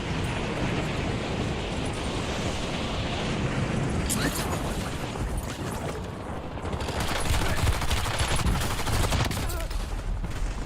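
Dense, continuous gunfire from the video game Warzone, including light and submachine guns, rattles on for the whole stretch as one loud, unbroken roar with scattered sharper bursts on top.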